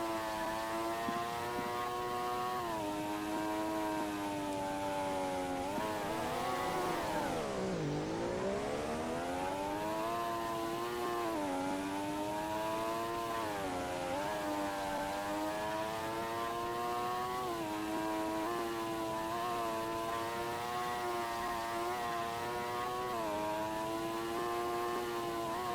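Race car engines in a racing video game drone loudly and continuously, their pitch rising and falling with each gear change and corner, one steep dip near the middle, with no talking over them.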